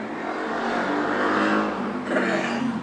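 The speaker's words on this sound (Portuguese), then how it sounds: "Pera aí que tá passando moto." A motorcycle passes on a noisy residential street, its engine swelling to a loud, sustained roar and then shifting pitch as it goes by, with no talk over it.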